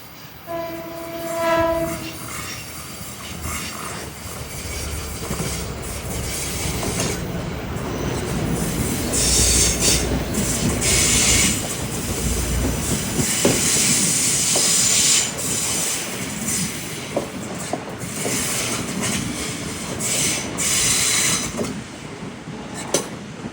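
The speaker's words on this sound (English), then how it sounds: "here comes an equipment train from Croton Harmon to Grand Central." A Metro-North equipment train running from Croton-Harmon to Grand Central rumbles past steadily for the whole stretch, wheels clattering and hissing, with a brief horn-like tone near the start and occasional squeals.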